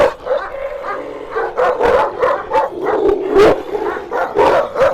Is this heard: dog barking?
yes